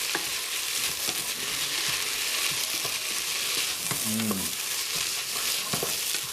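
Large batch of vegetables frying for a small stew, a steady dense sizzle filling the pan with brief stirring scrapes and clinks over it, close and continuous.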